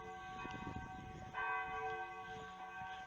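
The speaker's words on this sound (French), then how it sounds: "Par contre il y a les cloches chrétiennes là qui cassent l'ambiance." Church bells ring steadily in the distance in Thale, Germany, their tones sustained and layered, with a brighter strike partway through and no voices.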